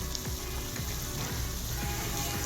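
Freshly ground chillies sauté with arbi (taro root) in a pan, giving a steady, close, continuous sizzle with occasional stirring scrapes and no talking.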